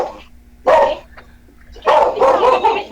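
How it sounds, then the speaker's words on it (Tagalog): A noisy dog barks near the microphone in two bursts, a single sharp bark and then a longer run of rapid barks, over faint background hum. "Tapos, maingay yung aso."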